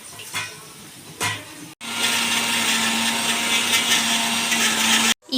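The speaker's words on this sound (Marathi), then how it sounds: "मिक्सर मध्ये काढून घेऊया" A kitchen mixer grinder whirs steadily at full speed, grinding soaked dal with cumin and ajwain for vada batter, after a few short knocks and a brief stop, then cuts off near the end.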